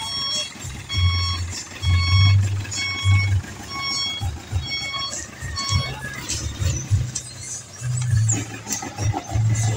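A long jeepney reverses as it parks at a roadside in Iloilo City, with regular electronic reversing beeps repeating in short bursts over an idling engine rumble and nearby chatter.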